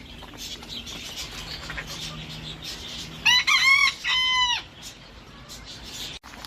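A rooster crows clearly in the middle, a harmonic cock-a-doodle-doo with a couple of loud bursts over steady outdoor background noise.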